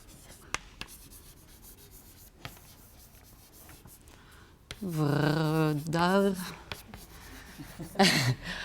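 Pen scratching on paper during a talk, soft scattered scribbles and taps up close, followed by a person speaking over the writing.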